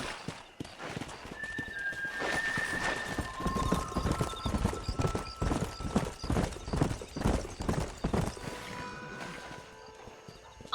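Horse hooves clip-clop at a galloping pace in the Red Dead Redemption video game, a loud, fast rhythmic pounding that runs continuously, with occasional whinnies and other game sounds over it.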